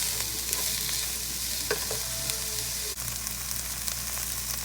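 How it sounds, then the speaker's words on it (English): Onion and red pepper cook in a pan, giving a steady low sizzle with occasional soft stirring scrapes and clicks throughout, with no talking. "Then I'm going to add the onion and the red pepper. And I am going to cook this for about 3 to 5 minutes."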